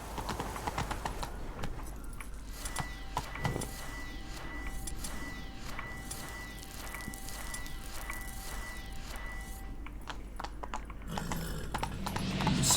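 Hooves of Roach, a horse in The Witcher 3 video game, clip-clopping in a steady trotting rhythm throughout, close and fairly quiet, with faint game ambience behind.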